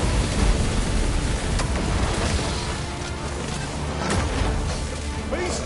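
Rain falling in the Dragon's Dogma 2 video game, a steady dense hiss with low rumbling underneath and a few faint thuds, fairly loud and unbroken.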